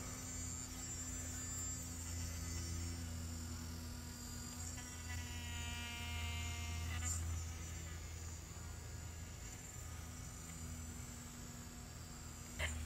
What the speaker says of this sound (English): I can just press super lightly and massage my face with the machine